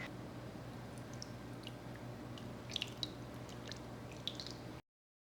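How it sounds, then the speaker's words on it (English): A sugar and oil marinade is poured over beef for a crock pot recipe, a soft, wet squishing and dribbling with a few faint drips over a steady low hum before it cuts off. "So let's go ahead and pour this all over the beef."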